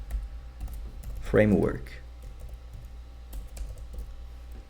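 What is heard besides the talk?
typing on a computer keyboard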